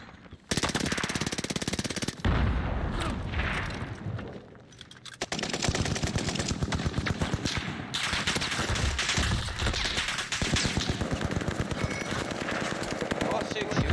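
Near-constant loud gunfire from a no-recoil Bren light machine gun in Warzone, with long sustained bursts and brief gaps between them. A player's voice can be heard beneath the shooting.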